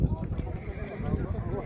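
Horses at a wedding horse race let out whinnying neighs amid a busy outdoor crowd, with people talking loudly over and around the animal calls throughout.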